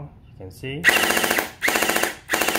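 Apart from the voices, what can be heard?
electric gel blaster toy gun firing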